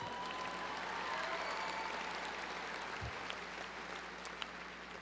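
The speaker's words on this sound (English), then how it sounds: "You can applaud that." Graduation audience at a high school ceremony applauding in a steady, dense wash of clapping that fills the hall evenly throughout, with a faint crowd murmur beneath and no speech.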